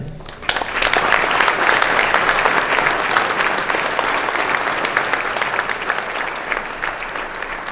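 An audience at a New Year's greetings ceremony applauds the fire and forest committee, a sudden burst of many hands clapping that starts loud and stays dense and even, easing slightly near the end.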